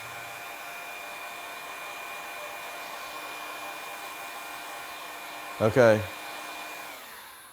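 A heat gun blows hot air onto window film to shrink it, giving a steady whirring drone throughout, with a short spoken word and a brief bump of handling noise near the end.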